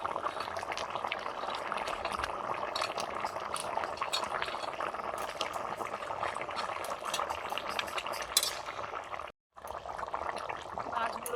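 Green chillies boiling in a fish curry with brinjal before fish goes in, a steady bubbling simmer with liquid gurgle throughout and a brief drop to near silence toward the end.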